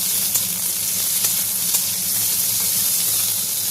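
Capsicum frying in a small amount of oil with potato and carrot, giving a steady, close sizzling hiss that runs without a break and has a few faint crackles.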